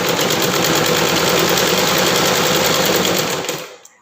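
A sewing machine stitches the folded edge of a churidar top, giving a loud, steady, close-up mechanical whirring hum that runs continuously and then winds down and stops near the end.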